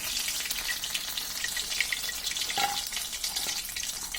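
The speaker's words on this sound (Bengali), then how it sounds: "আমাদের কাঁচামরিচগুলো ভাজা হয়ে গিয়েছে" Steady, dense sizzling of green chilies frying in hot oil until crisp, with crackling pops throughout and a faint clink near the middle.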